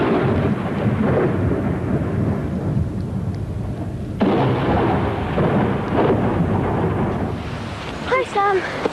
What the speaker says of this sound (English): In a thunderstorm.